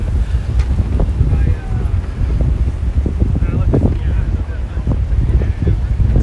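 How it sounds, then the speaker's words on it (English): Strong wind buffeting a microphone on a walk from Woodside, Queens to Greenpoint, Brooklyn, a loud, steady low roar with gusty surges lasting throughout. "Super windy, oh yeah."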